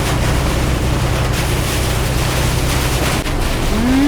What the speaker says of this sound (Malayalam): ഒടുക്കത്തെ കാറ്റുണ്ട്, മഴയുണ്ട്